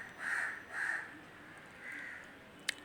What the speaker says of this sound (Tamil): காக்கா சவுண்டு ரொம்ப அதிகம் கேட்குது